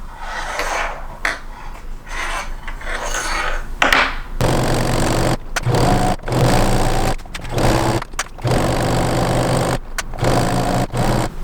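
A sewing machine stitching an upcycled old bedsheet runs loud and close in a steady whirring drone, stopping and restarting in short bursts with brief pauses between.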